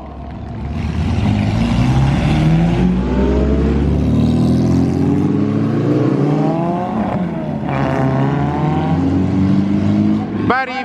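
Race cars at the Gran Premio di Bari street race in Puglia roar past one after another, loud engines rising and falling in pitch as they accelerate and pass close by, with a final sharp burst near the end.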